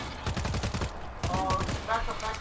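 Rapid gunfire aimed at a zombie horde in World War Z: dense bursts of close, loud shots rattle in quick succession over a noisy game backdrop.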